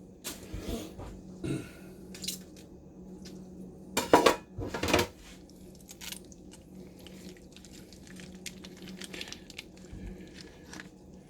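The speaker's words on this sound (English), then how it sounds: "So we're going to mix it in this shallow pan, hotel pan for now." Meatloaf mix being worked in a shallow metal hotel pan, with scattered clinks and scrapes of utensils against metal and a few louder clatters, over soft squelching and a quiet room background.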